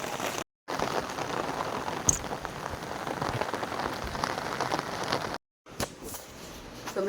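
Steady rain falls beside a river, a close, even patter of drops hitting the surface that runs throughout, broken only by two brief silent cuts.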